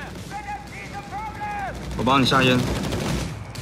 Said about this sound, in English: Stuka aircraft ready to strafe our enemies.